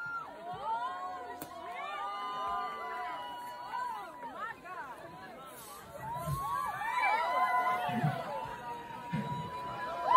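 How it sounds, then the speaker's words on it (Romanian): Party guests celebrating a Ferrari gift, cheering and shouting excitedly in a busy babble of overlapping voices, with bursts of louder whoops later on. "Felicitări în aplauze, doamnelor și domnilor, pentru fata noastră!"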